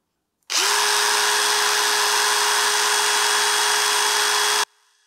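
A DeWalt DCF787 impact driver runs unloaded for about four seconds, a loud, steady, close whine with a constant pitch that starts and stops abruptly, with no voices.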